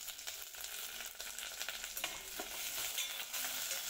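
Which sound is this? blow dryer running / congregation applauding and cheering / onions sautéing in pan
onions sautéing in pan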